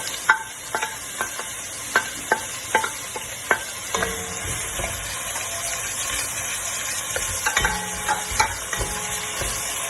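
Garlic and onions sauté in a pan with a steady sizzle, while a utensil scrapes and clinks against the pan in a run of sharp, regular strokes.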